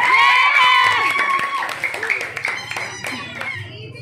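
Party guests at a children's birthday party clapping for a candidate, a burst of applause from a small crowd mixed with excited children's voices and chatter.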